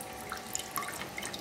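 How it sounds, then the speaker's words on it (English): Waste liquid from a 1.5 kW continuous steel alcohol still drains into a sink, giving a faint, brief patter of drips and trickling water. "The waste at the bottom discarded into the drain, in this case into the sink."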